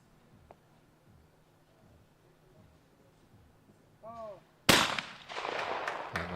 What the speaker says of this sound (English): Just see the way just the clay exploded even just on release.